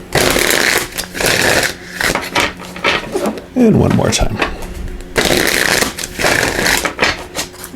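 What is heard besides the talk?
shuffling playing cards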